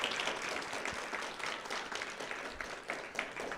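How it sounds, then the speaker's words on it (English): Applause rings out for the teachers of a graphic design program at a student design awards event, a moderately distant, steady round of clapping with no talking over it. "Let's give them a round of applause."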